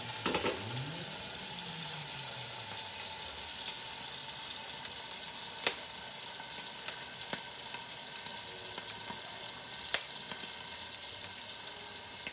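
Pork chops sizzle and fry steadily in a single pan, a continuous close crackle with a few sharp clinks of a utensil against the pan scattered through.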